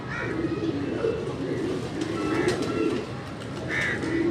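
Pigeons on a Karachi rooftop coo in soft low repeated calls, with a few brighter chirps, over steady background noise; someone talks intermittently.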